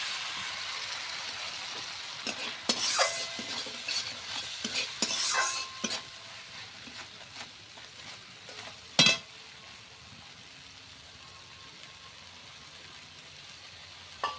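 Mustard paste stirred into spices sizzling in a hot pan for a fish curry, with bursts of spatula scraping and frying hiss early on and a sharp clink near the middle, then a steady quieter sizzle.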